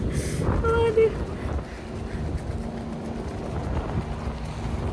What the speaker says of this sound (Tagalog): Yung hangin yan.